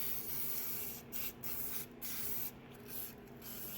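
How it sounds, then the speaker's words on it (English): Brake cleaner hisses from an aerosol can onto a car's EGR part. The faint, continuous spray breaks briefly several times as the nozzle is released and pressed again. "now I'm gonna spray it with a"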